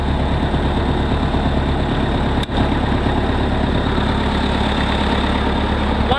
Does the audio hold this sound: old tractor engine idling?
yes